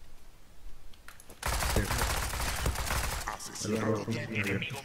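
Rapid bursts of gunfire in a competitive shooter game, loud and continuous, with several voices talking over it.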